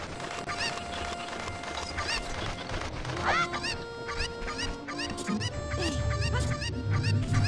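Cuccos cluck and squawk in Zelda: Ocarina of Time, with repeated short bird calls over in-game background music, then a busier rustling stretch toward the end.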